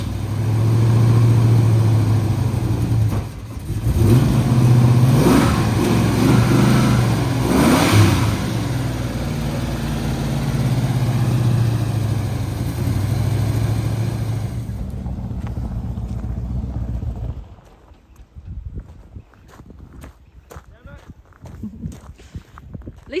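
A Ford Bronco's 351 V8 rumbles loudly and steadily with throttle surges while it drives, then drops away to quieter knocks and shuffling near the end.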